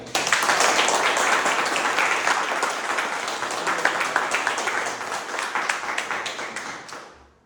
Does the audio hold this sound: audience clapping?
yes